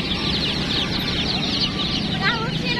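A group of chickens clucks and chatters continuously up close, a busy overlapping flock sound with a brief faint voice underneath.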